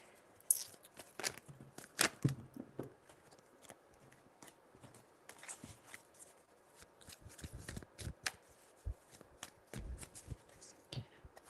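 Tarot cards being shuffled by hand in repeated bursts, crisp riffling and slapping strokes with pauses between, close and moderately loud, a voice speaking faintly at times.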